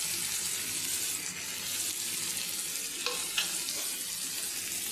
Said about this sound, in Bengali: পেঁয়াজটা একটু ভেজে নিয়ে আদা রসুন বাটা দিচ্ছি